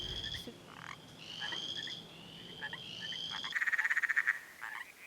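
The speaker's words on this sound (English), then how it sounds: "pay attention to any of the frog calls we might be hearing" Night chorus of frogs heard by citizen scientists surveying local populations: faint high-pitched trilling calls repeating in short bursts, then a nearer rapid pulsing croak, all against quiet outdoor ambience.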